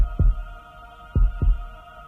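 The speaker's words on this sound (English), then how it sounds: "this is what a heart rate sounds like when you file at H&R Block" A heartbeat sound effect in a radio ad plays as deep, muffled lub-dub thumps, one at the start and a closer pair about a second later, over a steady low hum.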